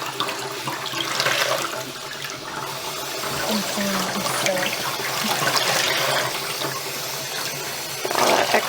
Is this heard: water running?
yes